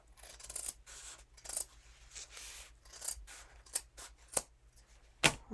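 Scissors slicing through shirt fabric pulled taut, a run of quick, faint snipping and rasping cuts in an irregular rhythm, close and quiet with no voices.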